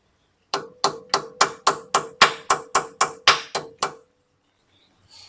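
Twelve evenly spaced metallic taps as a new axle seal is driven into the rear brake of a 1971 TA22 Toyota Celica, sharp and close with a ringing tone, then silence.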